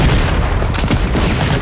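Infantry gunfire and rumbling battle effects in the Panzer Corps Gold strategy game, a dense, loud wash of shots and booms lasting a moment, with no talking.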